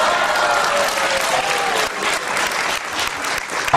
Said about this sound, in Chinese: 热情掌声鼓励一下